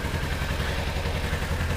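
A Kawasaki Ninja 300 motorcycle engine runs steadily as it warms up, a continuous rattling mid-pitched drone with even pulsing, moderately quiet and without voices.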